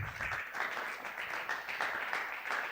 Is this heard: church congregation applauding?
yes